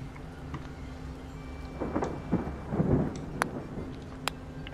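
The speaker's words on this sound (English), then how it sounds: "How is it raining in a golf course?" Rain and rolling thunder on a golf course in a video game, a steady low wash of rain under several swelling thunder rumbles in the middle, with a couple of sharp crackles near the end; no talking.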